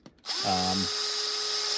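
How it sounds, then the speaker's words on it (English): Power drill fastening wheels onto an RC car with Proline Belted Trencher 3.8-inch all-terrain tires on Raid wheels: a brief revving whine spins up, then the motor holds a loud, steady close-up drone. "hopefully you guys will hear me over the drill"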